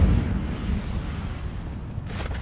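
The Incendio fire spell in Hogwarts Legacy sets off a deep booming blast with a heavy low rumble that fades into a sustained roar over a couple of seconds.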